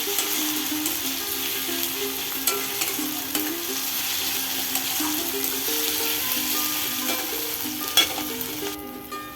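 Sliced onion sizzles steadily in a pan with spoonfuls of garlic and ginger paste for a home-style chicken curry, the frying loud and close with scattered scrapes and clinks of a stirring spoon, no voices.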